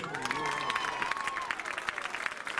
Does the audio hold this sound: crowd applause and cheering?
yes